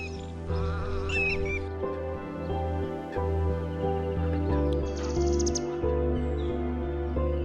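Wintering birds at the Keoladeo wetlands in Bharatpur, Rajasthan, give scattered chirps and calls, mostly early on, beneath sustained melodic background music.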